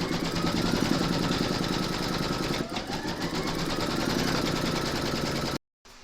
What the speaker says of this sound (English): stitch round number 1, and that's going to give you your placement outline for your batting